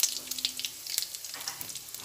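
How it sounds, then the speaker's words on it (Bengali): Panch phoron five-spice frying in hot mustard oil in a kadai: a faint, thin sizzle dotted with small crisp pops and crackles throughout. "5 ফোড়ন ভাজা হচ্ছে"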